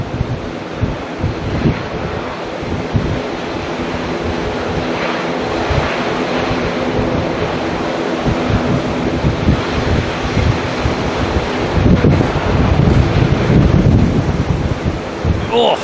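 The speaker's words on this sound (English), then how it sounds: "The wind is just absolutely annoying." Strong wind buffeting a microphone outdoors at Auckland Airport, a steady loud roaring rumble throughout that swells toward the end, with faint distant aircraft noise underneath.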